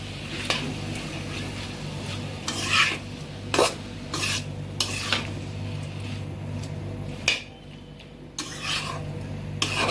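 A spoon stirs a mustard-paste dish with pumpkin leaves and stems in a pan over faint sizzling. The close, scraping strokes come in irregular bursts.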